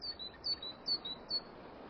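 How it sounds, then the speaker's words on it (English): A Siberian jay gives four short, thin, high calls at an even pace, clear and fairly near over a soft background hiss in a snowy Siberian forest. "Among the first birds to nest is the Siberian jay."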